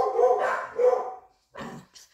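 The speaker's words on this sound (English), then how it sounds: "The dogs." Dogs barking close and loud indoors, two sharp barks followed after a brief pause by a couple of shorter yips, with a voice briefly present.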